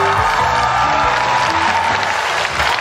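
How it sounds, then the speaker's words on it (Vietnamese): A crowd at an outdoor Vietnamese TV show applauds a winning team, a loud, dense clapping that runs without a break across a short stretch with music and voices underneath. "Một tràng pháo tay cho đội chúng tôi à"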